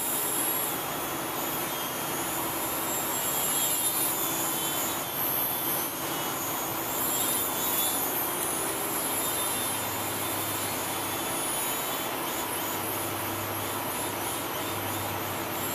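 A UMX AS3Xtra small electric RC airplane hovering with stabilization assist gives a steady, loud whining buzz of motor and propeller, with slight pitch shifts as it corrects, heard without speech.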